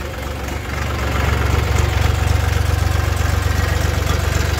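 A BJR F 5000 engine runs as the clutch is let out, giving a steady, close, low throbbing rumble with an even pulsing beat and no talk.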